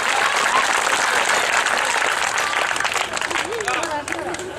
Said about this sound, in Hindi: कम अज़ कम आप हजरात इस बच्चे के लिए एक जोरदार तालियों का नजराना पेश कर दें।